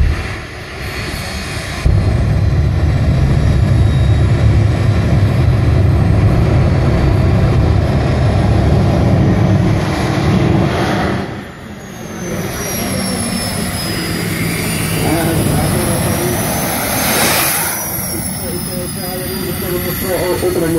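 The jet engine of a 5,000 brake horsepower VW Beetle jet car roars loud and continuous in an open field, a sustained blast with rising whine that dips briefly then builds again, with people talking over it.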